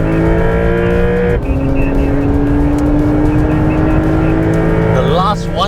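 A Porsche accelerates hard on the Sepang race track, its engine howling loud and close as the revs climb through a gear change, ending with a brief tire squeal.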